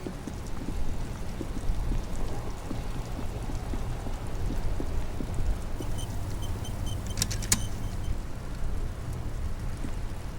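Rain falls in the video game Disco Elysium during a traffic jam scene, a soft, steady patter with a low background hum and a brief cluster of bright clicks partway through, quiet and without voices.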